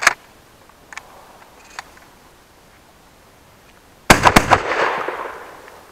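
An inertia shotgun fires Olimp No. 9 shot shells, 28-gram loads, outdoors. One loud, sharp report rings out near the end, following a few faint clicks in otherwise quiet surroundings.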